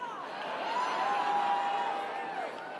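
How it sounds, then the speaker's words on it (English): A large crowd at the CPAC conference in Maryland cheers and whoops steadily, a dense wash of voices swelling and easing over a few seconds with no single voice standing out. "Man, that is a big crowd"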